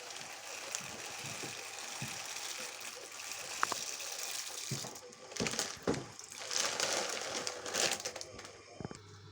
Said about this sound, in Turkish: Şimdi suyumuzu kaynattık. Şimdi makarnamızı döküyoruz.